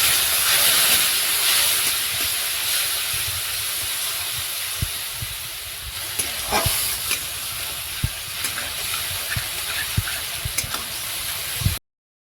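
A spice paste of ginger, garlic, cumin and green chilli with Kashmiri chilli powder fries in a pan, making a loud, steady hiss and sizzle, with sharp clicks and taps of stirring toward the end.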